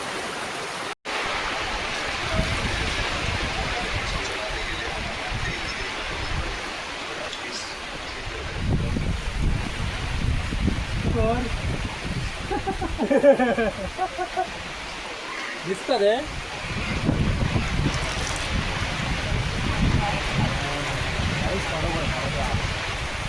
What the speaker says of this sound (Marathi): हे बघा मोठं पाऊस पडता बघा.